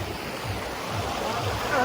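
A powerful waterfall with a strong, icy stream strong enough to sweep someone away gives off a steady, close, rushing roar that swells slightly toward the end.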